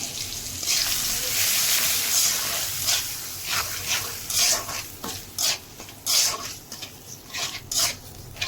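Spices fry in a pan with a steady sizzle as a spatula stirs in rhythmic, scraping bursts that grow choppier toward the end. Nearby and fairly loud.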